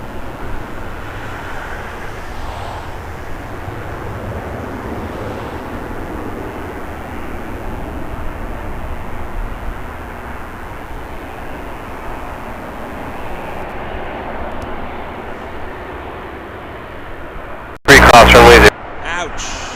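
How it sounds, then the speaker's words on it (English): Challenger 350 business jet rolling for takeoff at an airport, a steady broadband jet roar held at moderate distance for most of the stretch, with a voice talking over it and a brief loud burst near the end. "Challenger 350 on the roll."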